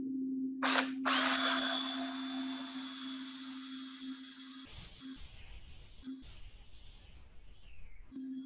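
A power sander with a soft flexible pad whirs steadily against a wooden bowl spinning on a lathe, its pitch wavering and briefly cutting out near the end.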